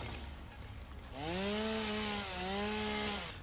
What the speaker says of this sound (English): Just means that we have to get our trusty little chainsaw out